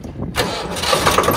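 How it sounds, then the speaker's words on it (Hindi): A straw threshing machine on a farm during the wheat harvest starts up abruptly after a quiet moment, then settles into a loud, steady mechanical roar that fills the rest of the clip. "इधर तो भूसा मशीन भी चलने लगी"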